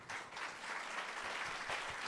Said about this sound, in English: if we can give our panelists a huge round of applause